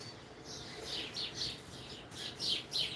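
Several short bird chirps repeat in quick bursts over a quiet outdoor background, moderately near and clear, with no talking.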